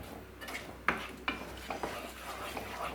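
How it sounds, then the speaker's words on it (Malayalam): Brinjal curry with curd is stirred in a pan, a spoon scraping and knocking against the metal in a series of distinct taps and scrapes, fairly close, over a quiet background hiss. "നല്ലപോലെ ഒന്ന് മിക്സ് ചെയ്ത് കൊടുക്കാം."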